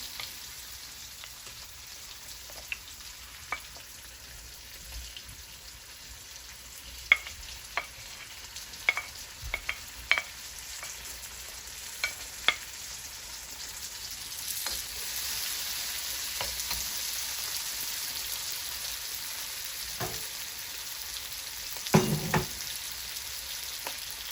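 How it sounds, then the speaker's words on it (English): Tomato frying in a pan with garlic for Jamaican-style steamed fish, a soft continuous sizzle punctuated by repeated sharp taps and scrapes of a spoon, growing a little louder later, close with no talking. "I don't want to fry my tomato too much guys"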